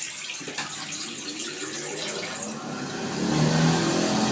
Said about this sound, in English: This really weird tap.